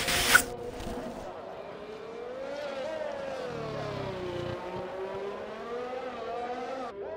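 Race car in a racing video game lapping the Monaco circuit, a close engine whine that rises and falls through gear changes and corners, under a commentator's voice.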